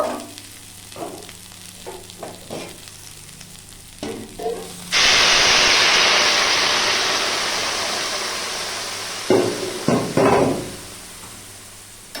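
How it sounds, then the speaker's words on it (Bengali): Hot water poured into spices frying in a pan for pui shaker ghonto sets off a sudden loud, rushing hiss that fades slowly over several seconds, after light stirring and sizzling, then a few scrapes of stirring near the end. "এরপর আমি পরিমাণ মতো গরম জল দিয়ে দেব"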